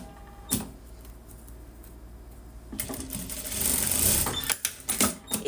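Sewing machine finishing off the tip of the binding on a long ruffled dress, starting with a short click and quiet pause, then a fast whirring stitch run that stutters and stops in short bursts.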